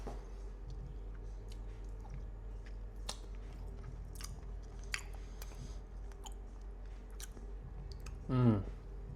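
Someone chewing honey, soft wet mouth sounds close by with faint clicks over a low steady hum, followed by a short vocal sound near the end.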